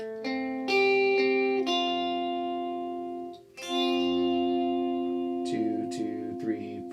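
Clean electric guitar lead part with no effects, from a worship song, sustained ringing notes changing every second or so, steady and fairly loud with no talking.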